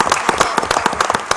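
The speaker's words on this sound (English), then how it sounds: "a great round of applause" A room of people clap at a Rochester Board of Education business meeting, a steady patter of many quick, close claps at moderate loudness continuing throughout with no talk over it.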